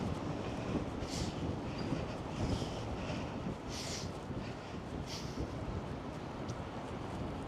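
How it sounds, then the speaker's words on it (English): Steady heavy wind buffets a microphone on a Manhattan street in January, a continuous low roar with occasional gusty bursts throughout. "It is windy."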